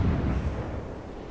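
Naval shells striking a ship in the World of Warships game, a single deep rumbling impact that is loud at first and then fades into a low boom.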